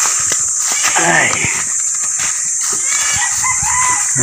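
A red junglefowl rooster crows in a mountain setting in Agoncillo, Batangas, its call rising clearly over steady background noise, with a few short clucks or calls around it and people talking nearby.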